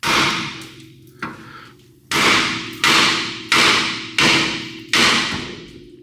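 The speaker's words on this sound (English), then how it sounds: "Give it a couple of little nice hits right about here and it should pop right out" Several sharp metallic hammer strikes on the outer tie rod end of a 2007 Ford Ranger, spaced unevenly with short pauses, each ringing briefly before fading; close and loud.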